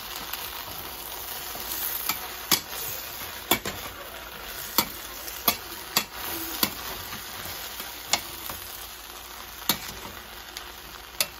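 Vegetables for aviyal, a traditional south Indian curry, being stirred after salt goes in, with a steady frying sizzle under repeated sharp clicks and scrapes of the utensil against the pan, close and fairly loud.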